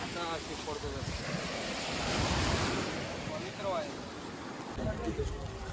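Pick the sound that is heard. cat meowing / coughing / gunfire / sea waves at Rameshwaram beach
sea waves at Rameshwaram beach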